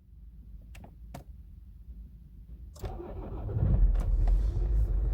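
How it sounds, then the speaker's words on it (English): A Toyota Corolla Verso 2.2 diesel (2AD-FTV) cranks and fires up on a booster pack after a short pause with a few clicks, then settles into a loud, steady diesel idle close by. "So the vehicle has started"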